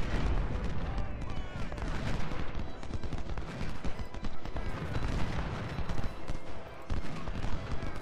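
Cannon artillery fire in the video game Ultimate General: Civil War, a dense, continuous barrage of booming shots and crackling gunfire that stays loud throughout the clip.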